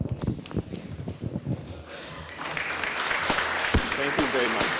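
An audience at a panel discussion session claps to thank the seated panelists. Dense, steady applause swells in after a few scattered claps and thuds and continues to the end.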